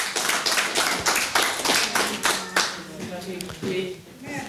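A church congregation claps together in praise of the Lord, a steady rhythmic beat of loud hand claps that keeps going and slowly thins toward the end, with voices mixed in.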